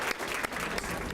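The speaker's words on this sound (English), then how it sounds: "A round of applause for all the recipients in the 5 to 11-year-old category." Applause for young award recipients aged 5 to 11 at a youth leadership gala, a dense continuous round of clapping from a crowd, heard at moderate distance and fairly faint, with no voices on top.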